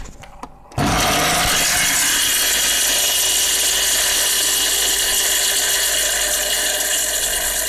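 An electric spice grinder whirs loudly and steadily as it pulverizes whole qorma masala spices, starting abruptly after a brief moment of quieter handling sounds and running without pause.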